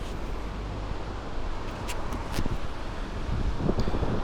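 Steady coastal wind rushes and rumbles against the microphone in Dunfanaghy, County Donegal, with a few brief gusty flutters, and no voices.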